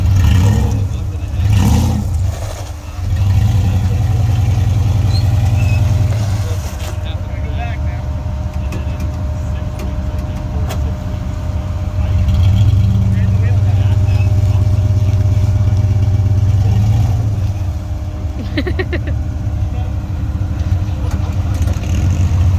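A truck engine idles and revs low and steady as the truck is moved near a river, the rumble running under people talking throughout.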